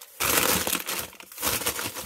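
Plastic bag holding potatoes from a fridge is grabbed and crumpled, a dense crinkling rustle in two bursts separated by a short pause.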